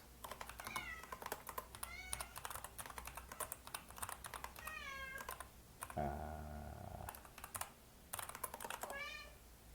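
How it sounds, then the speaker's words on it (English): A house cat meows repeatedly in rising and falling cries alongside steady computer keyboard typing, with a longer drawn-out yowl partway through. "Sorry about my cat, if you can hear her screaming."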